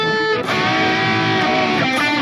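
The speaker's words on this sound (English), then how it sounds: "it sounds pretty much like this more traditional hot-rodded 80s tone which people got from the Marshall amps" A heavily distorted electric guitar, a Harley Benton Fusion 3 HSS through a Sonicake Matribox 2 Pro set to a hot-rodded 80s Marshall-style tone, rings out a thick, saturated chord, sustaining briefly before a second strum.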